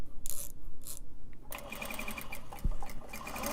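Sewing machine stitching Japanese fabric, a few short stop-start bursts and then a steady fast mechanical whir with rhythmic clicking, close and clear, no talking.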